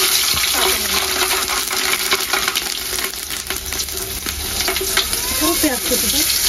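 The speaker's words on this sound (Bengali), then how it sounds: "তেল খুব ভালো করে গরম হয়ে গেছে, দিয়েছি গোটা মশলা, তেজপাতা, শুকনো মরিচ, এলাচ, দারচিনি" Whole spices (bay leaves, dried red chillies, cardamom and cinnamon) frying in hot oil give a loud, steady, close sizzle with crackles and pops, while faint speech sounds in the background.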